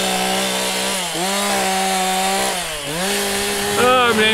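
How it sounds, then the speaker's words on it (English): A chainsaw carving a wooden sculpture runs loud and close, its engine pitch dipping and rising again as the blade bites into the wood and eases off. "I'm a chainsaw sculptor"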